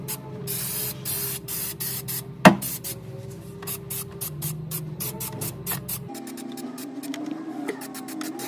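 Spray adhesive hisses from an aerosol can onto carpet for a car's rear wall, a steady close spray in repeated bursts with a brief sharp knock partway through, no talking.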